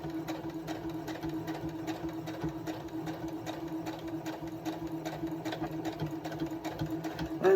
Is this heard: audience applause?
no